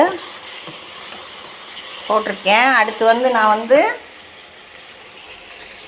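Tomatoes fry in a pan with a soft, steady sizzle. A person talks over it briefly in the middle of the clip.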